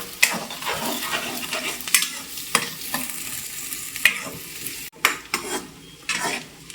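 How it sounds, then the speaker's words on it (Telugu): Roughly chopped onions frying in a pan, with a close crackling sizzle punctuated by regular scraping stirs and spatula knocks, no voices. "మనం ఇలా కొంచెం పెద్దగా కట్ చేసుకున్న ఉల్లిపాయ ముక్కల్ని యాడ్ చేసుకోవాలి. యాడ్ చేసుకొని ఫ్రై చేసుకోవాలి."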